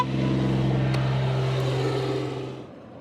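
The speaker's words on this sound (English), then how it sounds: "there's car noise." A car passes by near a beach, a loud steady engine rumble that holds for a couple of seconds and then fades as it moves away, with no talk over it.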